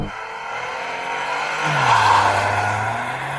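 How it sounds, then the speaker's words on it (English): A Toyota GR Yaris with a manual gearbox launches in a drag race, its engine revving hard before the clutch drops and rising in pitch as it pulls away, loud and close, with some tire squeal. "Let's try the new car in manual. Same thing again. Rev it up."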